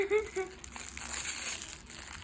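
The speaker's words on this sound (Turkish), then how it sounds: "İlk şu paketi açalım mı arkadaşlar?" Crinkling plastic wrap of a big LOL doll package being pulled open, close rustles and crumples running throughout, while someone talks and laughs briefly at the start.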